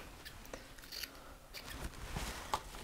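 Scissors snip through card being trimmed to size for a custom wedge box, a few short, dry crunching cuts close by with slight handling rustle between them.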